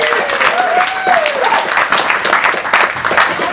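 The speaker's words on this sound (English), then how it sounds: "So a round of applause to Shelton Lea." Audience applause at a memorial tribute celebrating a poet's life, a room full of people clapping steadily and fairly loudly, with a voice calling out briefly at the start.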